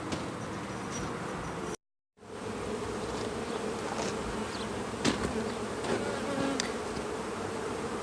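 Honeybees buzz in a steady, close drone around a hive during artificial swarming. The drone stops for a brief gap, then returns, with faint clicks and bumps heard now and then.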